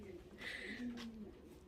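Racing pigeons returning from a young bird race give soft, low cooing calls close by, one short coo sequence rising and falling against a faint background.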